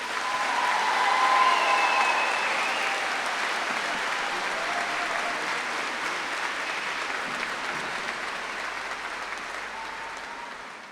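Sustained crowd applause at a high school graduation ceremony, a broad, even wash of clapping that swells early then holds steady and slowly tapers, with no talk over it.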